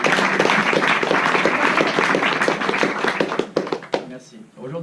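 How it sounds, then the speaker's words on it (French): An audience applauds during a talk on gifted people held in Lausanne, with dense, steady clapping that thins out near the end into a few scattered, sharper claps. "je pense qu'on peut les applaudir."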